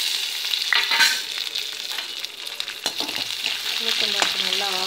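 Urad dal frying in hot oil in a pan, producing a close, steady sizzle with occasional clinks of a utensil stirring against the pan, no speech.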